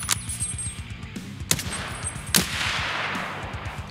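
Sniper rifle gunshots in Escape From Tarkov, a few sharp reports spread over a few seconds amid steady rapid low thumping, with no talk.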